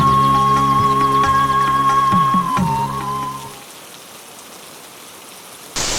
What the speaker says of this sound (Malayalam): പെയ്തൊഴിയാൻ വിങ്ങുന്ന മഴ